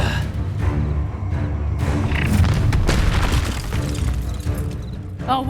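A spell cast during a duel in Hogwarts Legacy lands with a deep, loud boom, followed by crashing impacts and rumbling effects that stay dense and close for several seconds.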